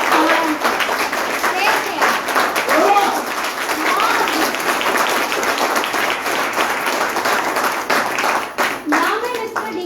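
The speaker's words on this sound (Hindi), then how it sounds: "तो एक बार उस मालिक के लिए ताली बजा दीजिए, मिस्टर डी के।" Audience applause at a direct-selling company success meeting, a steady wash of many hands clapping for about ten seconds, fairly loud and continuous with brief dips, some voices audible underneath.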